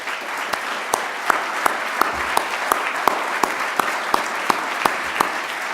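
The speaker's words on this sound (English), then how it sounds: "please, if everyone could rise and take a round of applause" An audience at a Beloit event for the 2019 Roy Chapman Andrews occasion claps at length, a steady room-filling applause with sharp, evenly spaced claps standing out above the crowd.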